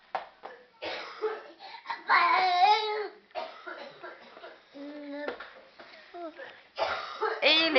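A small child coughs several times in short bursts indoors, mixed with babbling, fussing and a nearby adult voice talking.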